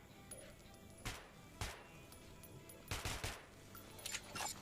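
Short bursts from a gun on a firing range in the Metro 2033 game, heard as a few separate clusters of quick cracking shots against a quiet, faintly humming background.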